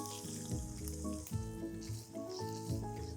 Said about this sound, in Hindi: पनीर को मुझे हल्का हल्का गोल्डन होने तक फ्राई करना है।